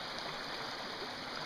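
A small Pennsylvania trout creek flows nearby in spring, giving a steady, even rush of water that stays constant with no voices over it.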